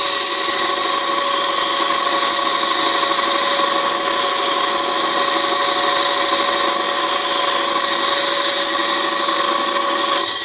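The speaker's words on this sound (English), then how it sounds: "I'll put it in reverse just because it's a little easier that way, about 300 RPM, and it looks like this." A woodturning lathe runs in reverse at about 300 RPM while a turning tool is honed against it, giving a constant loud high-pitched whine and hiss without any speech.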